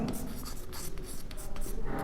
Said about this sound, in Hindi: इसी प्रकार जैसे लिख दिया निकिता,